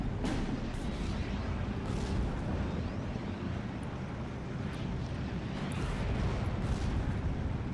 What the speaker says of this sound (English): a Nebelwerfer barrage came in seconds later.